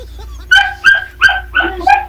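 A dog barks five times in quick succession, loud and close, each bark sharp and evenly spaced against a low background hum.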